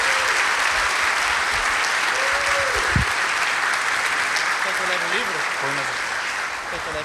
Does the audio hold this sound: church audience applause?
yes